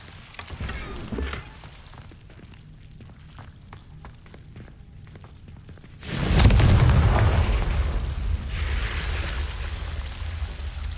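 The Confringo explosive spell in the video game Hogwarts Legacy sets off a single loud, close boom midway, after quieter crackling and rapid ticks, then a long rumbling decay.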